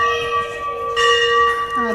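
A metal bell at a Hindu temple rings out close by, a bright sustained clang with a long shimmering decay, struck again partway through, as a crowd murmurs faintly around it.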